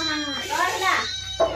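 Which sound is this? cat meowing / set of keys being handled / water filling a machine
cat meowing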